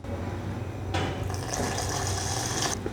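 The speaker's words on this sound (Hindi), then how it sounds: "फिर इसमें थोड़ा और दूध डालेंगे" Milk pours into a dish with a steady liquid splashing and trickling that starts about a second in and runs continuously, close and fairly clear, with no talking.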